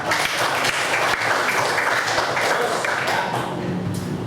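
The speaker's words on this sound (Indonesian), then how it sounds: "beri tepuk tangan dulu Pak" Classroom applause during a school lesson, a burst of students clapping together that holds steady and then thins out toward the end.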